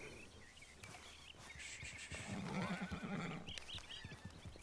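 A whinnying horse in Red Dead Redemption 2, a moderately loud neigh rising and fading in the middle, set against hoofbeats and faint bird-like game ambience.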